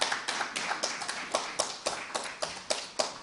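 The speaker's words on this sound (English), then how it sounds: "Now you can clap." A small audience at a county candidate debate claps in a slow, evenly spaced rhythm, about a dozen distinct sharp claps that are moderately loud and close, with no talking over them.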